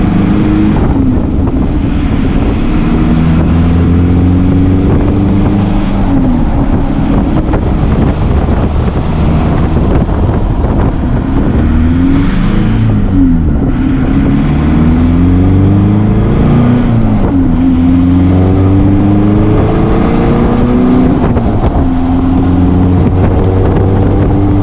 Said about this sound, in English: I am cruising 60 miles an hour right now